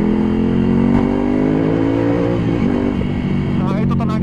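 A 2020 Ducati Scrambler Cafe Racer motorcycle engine runs loud and steady with a slight rise in revs, close by and continuous throughout, with a brief higher-pitched burst near the end.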